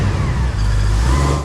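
A 2009 Pontiac G8 GT rumbles nearby with a deep, loud engine drone that swells slightly as it revs, holding steady throughout with no voices.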